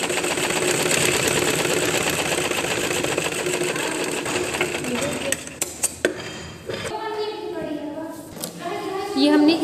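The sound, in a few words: sewing machine stitching a frock strip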